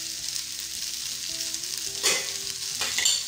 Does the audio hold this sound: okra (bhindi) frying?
yes